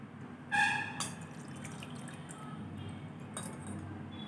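Water drips and trickles from tamarind pulp being filtered by hand in a home kitchen, with a few sharp splashes and clinks near the start over a steady low background hum.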